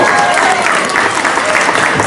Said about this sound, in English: How about a nice round of applause for all my helpers part of the show.